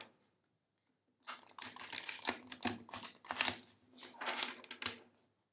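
Tarot cards being shuffled by hand, a dense papery riffling and clattering that starts after a second of quiet and runs in bursts for about four seconds, close and moderately quiet, with no talk.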